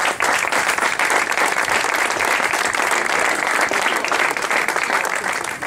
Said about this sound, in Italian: al capitano, un applauso.